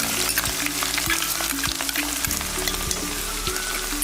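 Garlic and ginger dropped into hot oil with fennel seeds, frying for a prawn roast, give a steady close sizzle with a few scraping stirs of a spoon throughout.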